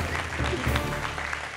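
Brief burst of audience applause on a French-language live show, dense clapping mixed with voices and a low background hum, loud and close for a moment.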